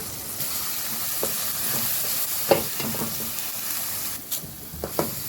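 Shallots frying in a pan for a village-style chicken liver roast, a steady loud sizzle with occasional stirring knocks and scrapes, no voices.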